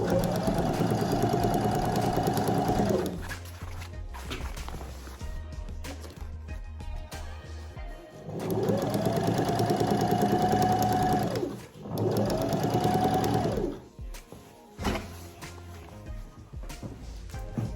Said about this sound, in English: I'm just sewing closely to that side